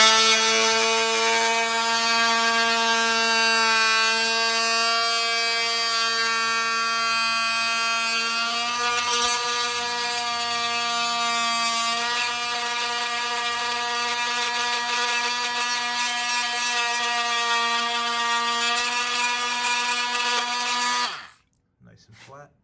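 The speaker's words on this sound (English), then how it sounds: "Then there's this little tab that you have to grind off to get the bracket to slide all the way in. I get my grinder in there, so I switch the multi-tool." A multi-tool grinds a metal tab off a bracket for a custom audio amp rack on a 2024-or-newer Harley-Davidson, making a steady, loud, buzzing whine with a rich harmonic tone that holds for about twenty seconds before cutting off abruptly.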